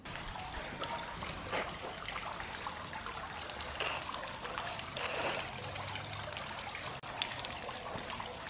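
Water runs from a drinking and hand-washing pipe at a village fountain in the south of France, a steady soft trickle and splash that goes on throughout under light outdoor ambience.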